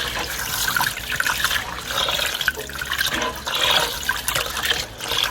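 Water running and splashing while food is rinsed in a bowl, a close, fluctuating trickle and slosh that swells and fades in irregular waves.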